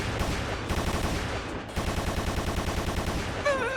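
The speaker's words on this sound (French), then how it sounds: "Oh la mitrailleuse." Machine gun fire in an anime episode, rapid evenly spaced bursts of shots rattling on continuously, loud and close, with a brief gap midway before the firing resumes.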